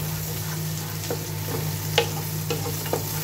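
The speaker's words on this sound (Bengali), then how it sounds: "পেঁয়াজটাকে আমি মোটামুটি একটু ভেজেই নিব" Onion frying with salt in a pan, a constant close hiss of oil with a few soft stirring taps and clicks, heard alone.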